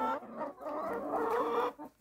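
Chickens on a small rural farm in the morning cluck and squawk continuously at close range, a dense overlapping chorus of hens with no talking.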